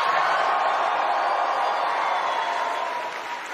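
A conservative convention crowd of about 7,000 people cheering and making noise, a broad, steady roar of many voices filling a large hall, loud throughout and easing slightly at the end.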